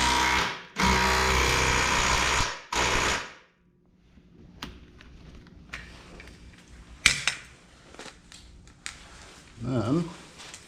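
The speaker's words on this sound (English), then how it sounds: "I'm going to go ahead and tighten this one up with the little gun." A small impact gun tightens a suspension bolt on a 2004 Ford Escape during control arm and tie rod work, with two loud sustained buzzing bursts up close, then quieter clanks and handling noises.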